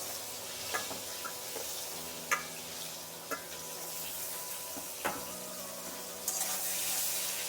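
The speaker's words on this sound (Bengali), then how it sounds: "ঝিঙেগুলো একটু ভেজে দেবো।" Ridge gourd frying in a pan in a village kitchen gives a steady soft sizzle, broken by several sharp clinks and scrapes of a spatula stirring, close and fairly quiet.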